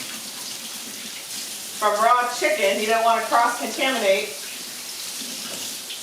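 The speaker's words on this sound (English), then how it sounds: "And let's rinse off my fingers real quick." Tap water runs over fingers at a kitchen sink while someone cooks a creamy corn and chicken skillet with raw chicken; a steady, close hiss continues throughout, with someone talking briefly in the middle.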